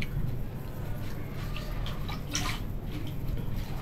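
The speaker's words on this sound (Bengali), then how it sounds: "পাতাগুলো একটু ধুয়ে নেই" Taro leaves being rinsed in water, with soft continuous splashing and trickling close by, steady throughout with a few brighter splashes near the middle and no talking.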